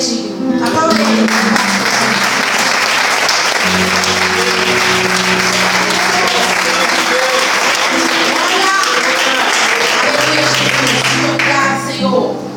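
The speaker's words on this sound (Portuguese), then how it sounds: "Aplauda Ele, porque Ele é digno." A church congregation applauds during a sermon, the loud, dense clapping running steadily and unbroken from start to finish, with sustained keyboard chords underneath.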